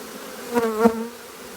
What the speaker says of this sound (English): Big pile of bees.